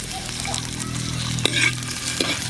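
Onion sautéing in a pan while beef and beans are being cooked, a close continuous sizzle broken by stirring scrapes and a few sharp clicks of the utensil.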